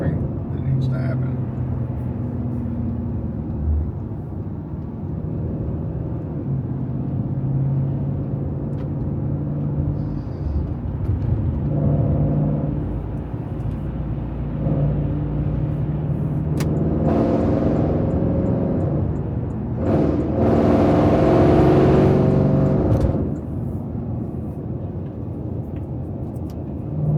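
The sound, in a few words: car driving in traffic on the way to work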